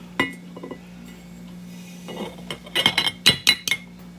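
A glass jar clinks and taps as it is handled in a kitchen while onion powder is stored, with a handful of bright contacts clustered toward the end over a low steady hum.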